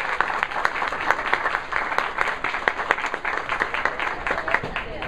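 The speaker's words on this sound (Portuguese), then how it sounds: "Por favor, palmas para o Luiz, pessoas." A book-club audience applauds an author being introduced on stage, with lively, close clapping from a small-to-medium crowd and a few sharp individual claps standing out from the dense patter.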